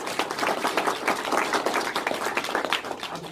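Applause from an audience at a gallery talk for a BFA thesis exhibition: a steady patter of many hands clapping at moderate volume, sustained through the whole stretch without speech.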